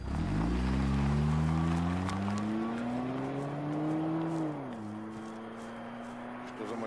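A car engine revs and pulls away, its rising whine climbing steadily for several seconds before the pitch drops as it shifts and recedes, loud and close with no voices.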